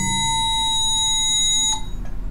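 A synthesized gong triggered from a touch pad holds a bright, ringing metallic tone with steady overtones, then a new strike near the end shifts the sound. It is fairly loud and close, with no talking.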